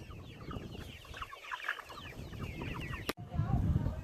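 Farm chickens clucking at feeding time, many birds chattering and squawking close by in overlapping bursts, with a sharp knock partway through and rustling after.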